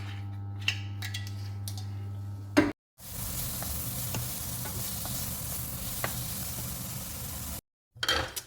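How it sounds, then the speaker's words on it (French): Onion sautéing in butter with a little oil sizzles steadily at moderate loudness with occasional light clinks, after an opening hum and a brief gap, then cuts off near the end. "Et je vais mettre un oignon à rissoler dans le beurre"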